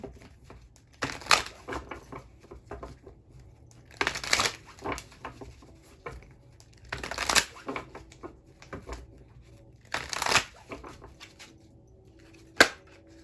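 Playing cards are riffled in four separate bursts, each a brief papery flutter, close by, with quiet gaps between and a sharp tap near the end.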